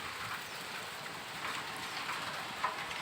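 Rain begins to fall after a windy, dusty storm, a faint, steady patter of drops with a soft hiss and one small tap near the end.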